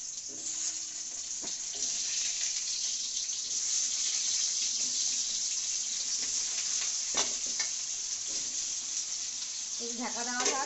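Potatoes fry in a pan beside chicken for a home-cooked meal, a steady close sizzle running throughout with occasional clinks and stirring.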